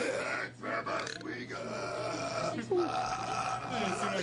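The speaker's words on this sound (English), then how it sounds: "It seems like you're burping." A few guttural burps and grunting throat sounds, close and fairly loud, mixed with short bursts of people talking nearby.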